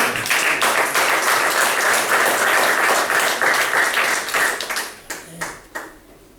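A church congregation breaks into dense, steady applause that fills the room for several seconds, then thins out to scattered claps and fades away.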